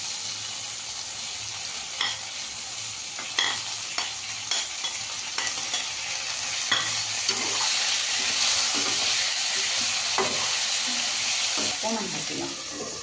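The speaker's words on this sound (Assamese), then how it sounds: "অকণমান ভাজি লওঁ।" Chopped tomatoes frying in a home kitchen pan, a steady bright sizzle running throughout with intermittent scraping and stirring clicks from a spatula, fairly close and even in level.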